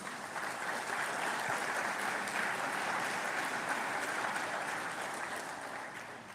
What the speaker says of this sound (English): You guys are clapping even when I don't pause.